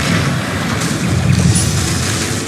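A Bombarda blasting spell in Hogwarts Legacy sets off a loud, dense explosive roar that stays steady and full for the whole moment, with no pause or fade.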